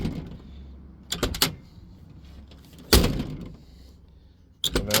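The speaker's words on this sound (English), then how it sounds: "I don't have to lift up on my door to shut it." Heavy slams of the driver's door on an old Ford F-250 HD diesel pickup with a worn striker pin, three sharp thuds spaced a second or two apart over a low idling rumble, close and loud.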